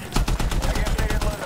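Automatic gunfire in the video game Medal of Honor 2010 bursts out as a fast, loud, close rattle of rapid shots, about a dozen evenly spaced reports in quick succession.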